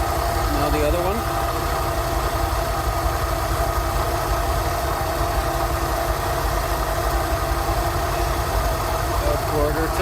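A Rolls Royce Silver Shadow engine idles steadily at around 670 to 680 rpm during carburettor tuning, giving a continuous loud, even rumble with no breaks.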